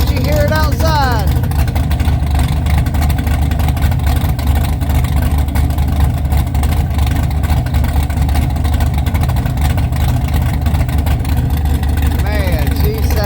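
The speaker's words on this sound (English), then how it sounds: "We just got the engine fired up." A low-compression 600-horsepower street-build car engine idles outside, a loud, deep, continuous rumble with a steady, lumpy throb, heard close up with no talking over it.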